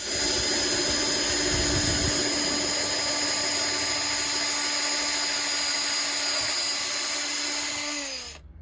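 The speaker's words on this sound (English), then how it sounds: "you can open these up with one of these step drills. If you drill carefully, there's no problem at all." Power drill with a step bit boring through plastic, a loud, sustained high whine held close for about eight seconds before spinning down at the end.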